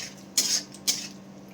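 Veg chowmein tossed together with red chilli sauce, two brief scraping, clattering strokes of utensil against the pan over a quiet, steady background.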